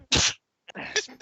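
A single sharp sneeze bursts out up close, followed by a brief pause and then a voice talking.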